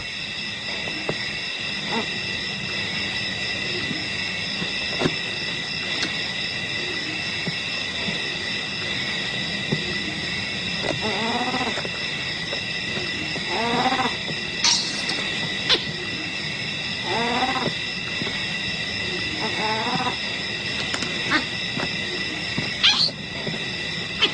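A young leopard in the wild gives short, rising calls repeated several times at moderate distance, set against a constant high drone of insects and a low ambient rumble.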